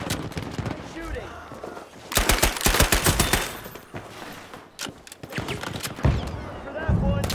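Automatic gunfire from the World War II shooter game Battlefield V, with loud rapid bursts and scattered single shots over a busy combat soundscape, and game voices calling out in between.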